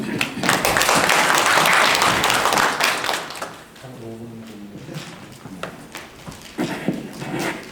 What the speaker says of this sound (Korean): 여러분들 박수로 청해 주시기 바랍니다.